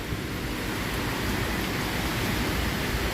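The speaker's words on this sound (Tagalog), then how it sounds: "napakalakas po ng hangin na yan guys" Strong typhoon wind roars as a steady, dense broadband rush outside a two-storey house during a power outage, loud and unbroken throughout with no voices.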